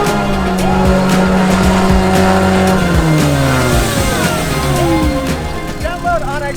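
A Miata tank, a Mazda Miata built into a tracked off-road machine, drives through a river with its engine loud and close, revving and sliding in pitch over splashing water and clanking, with a voice briefly audible.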